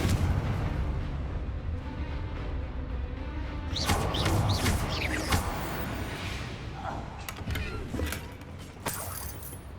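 The Confringo explosive spell in Hogwarts Legacy goes off in a rapid cluster of sharp, booming blasts after a few seconds of steady rumbling background, with a couple of further bursts near the end.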